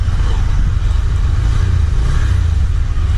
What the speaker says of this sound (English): When you just accelerate the bike, you can just feel the power.